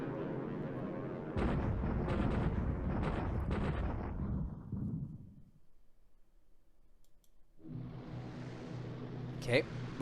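Bombing explosions in the wargame War in the Pacific land as a burst of loud, rumbling blasts over the first few seconds, fading to near quiet before another broad noisy roar rises with a sharp crack near the end.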